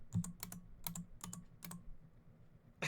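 Bursts of keystrokes on a computer keyboard: quick clusters of crisp clicks separated by short pauses, close and distinct against a quiet background, ending in a final sharp tap.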